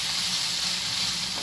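Spiny gourd and potato pieces frying with onion, seasoned only with salt and turmeric, give off a continuous soft broadband sizzle and hiss in the pan, steady and unbroken.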